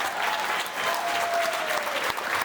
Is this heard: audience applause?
yes